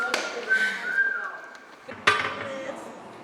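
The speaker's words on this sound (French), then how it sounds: "Il siffle comme un oiseau." A man whistles like a bird in a few short, thin tones at moderate distance, followed by a sharp clatter, in a room with faint background noise and no clear talk.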